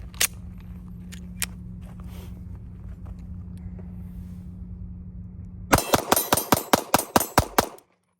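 A MAC 9 DS pistol fires Hornady ammunition in a quick string of about eight sharp, loud shots near the end, after a steady low hum.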